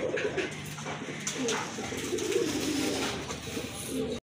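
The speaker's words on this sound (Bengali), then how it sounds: "চলেন বন্ধুরা কবুতরগুলো আপনাদেরকে দেখানোর চেষ্টা করি" Several pigeons cooing close by, soft rolling coos overlapping through a steady background hum.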